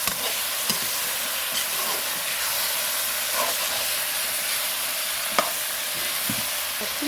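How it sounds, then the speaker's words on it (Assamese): Tomato masala for an Assamese mutton dish fries with a steady, close hiss in a pan, broken by a few soft scrapes and taps as it is stirred. "পটককৈ লাগি ধৰিব বুলি অকণমান লৰাই দিছোঁ। অকণমান ভজা ধুনীয়া কালাৰটো আহিছে।"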